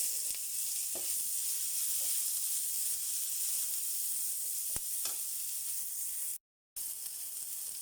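Onion dropped into hot oil for a fish stew sizzles steadily, a dense continuous frying hiss that holds loud from start to end, broken only by a brief dropout near the close.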